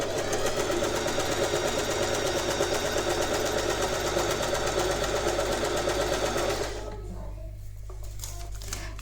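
An electric sewing machine stitches a straight seam on a royal blue lehenga, whirring rapidly and evenly up close for several seconds before cutting off, leaving a quieter background.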